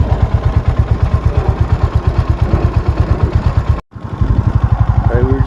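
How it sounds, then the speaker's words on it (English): A motorcycle engine chugs at idle in a steady, rapid, loud rhythmic pulse close by, briefly cutting out for a moment before the lumpy beat resumes. "Oh, my bike is chugging."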